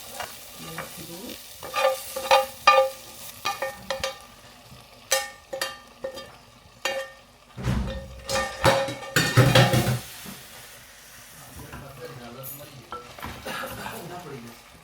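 Masala gravy for a mushroom and paneer dish sizzles loudly in a pan as water is poured in, with repeated stirring scrapes and clinks of a spoon against the pan.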